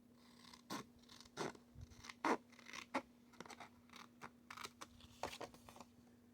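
Scissors snip through material along a score line in short, irregular crisp cuts and scrapes, about a dozen quiet close bursts over a faint steady hum.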